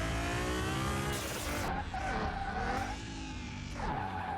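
Racing engine of a Nissan GTR in Car Mechanic Simulator 2021, screaming at high revs with tire squeal and a loud, whistling turbo flutter between shifts, continuous and close with no talk.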